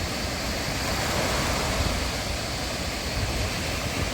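Steady, broad rush of sea waves washing onto İztuzu beach in the evening, constant and enveloping with no voices.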